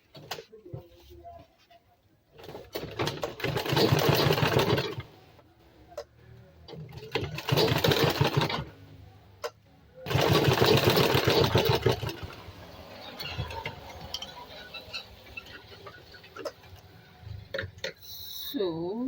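A sewing machine stitching a sinbono bag runs in three loud bursts of rapid, even whirring, with quieter gaps between them where a voice speaks.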